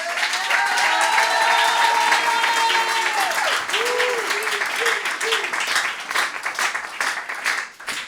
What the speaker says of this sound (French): qu'on peut applaudir d'ailleurs ce soir